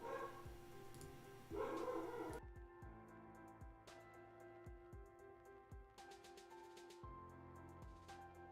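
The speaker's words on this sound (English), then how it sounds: "God, my dog is loud." A pet dog barks and yips several times indoors, fairly faint and set back from the mic, over a steady bed of background music.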